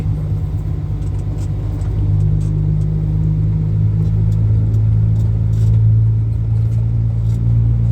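A dump truck engine, on a truck more than ten years old, gives a loud, steady low rumble that idles and surges slightly, close by, with no talk.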